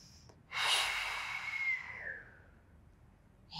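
A single deep breath during a Pilates stretch: a sharp nasal inhale that swells then fades over about two seconds, close and alone in a quiet room.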